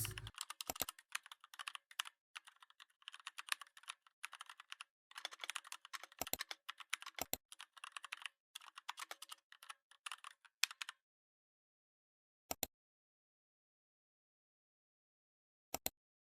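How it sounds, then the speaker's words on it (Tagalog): Quick, light keystrokes tapping on a computer keyboard in steady, irregular bursts for about ten seconds, then a few isolated clicks after a pause, quiet and close. "So mag-type lang tayo dito ng"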